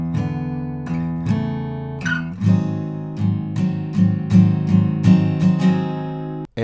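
An acoustic guitar strums the closing bars of the verse of a song with steady eighth-note down strokes. The chords ring out clearly and alone, with evenly spaced attacks and a brief pause near the end.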